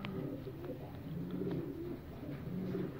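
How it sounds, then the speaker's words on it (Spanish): Pigeons in a loft in Cape Coral, Florida, give low, soft cooing calls over a steady hum of background noise, with no talk. "Bastante palomas aquí de calidad de Rivera y Joaquín"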